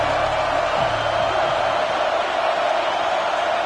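Steady, dense stadium crowd noise from a football video game, a continuous loud wash of massed voices holding level throughout with no clear peaks.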